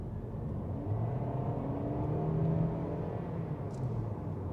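BYD Atto 2 DM-i hybrid in sport mode accelerating from 40 to 80, heard from inside as a steady low drivetrain hum and road rumble that swells slightly, with no talk.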